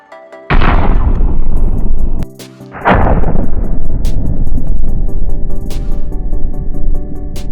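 Two grenade explosions in the mobile shooter COD Mobile hit one after another, each a sudden loud boom with a long rumbling decay, followed by scattered sharp bursts in the background.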